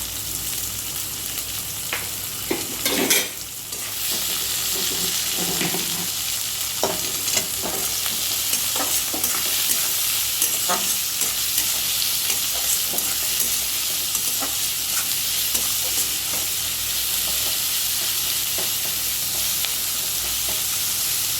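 Chicken korma masala fries in a pan with a continuous sizzle and occasional scrapes and knocks of a spoon stirring it, close and steady throughout.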